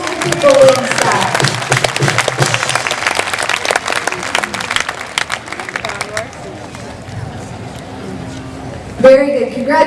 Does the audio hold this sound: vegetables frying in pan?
no